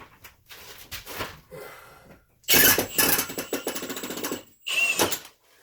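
A power driver spins a stripped screw in a bathroom ceiling during a tiny home remodel, with short bursts of buzzing whir separated by pauses, close and fairly loud.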